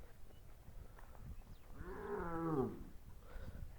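A calf on a village farm gives one drawn-out moo in the middle, fairly close against quiet rural background noise.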